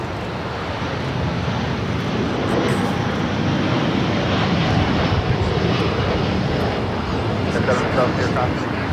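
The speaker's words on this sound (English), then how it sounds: "got the Latam and Dreamliner heading to Brazil, now rolling down at 25 right" A LATAM Boeing 787 Dreamliner rolls down runway 25R at LAX for takeoff, its engines giving a loud, steady, broad roar with wind buffeting the microphone.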